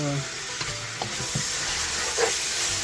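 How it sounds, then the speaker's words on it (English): Pork butt, already boiled and tender, sizzles steadily in a pan for dinuguan, a close, continuous frying hiss with a few soft knocks of stirring and no voices. "let's cook this pork butt"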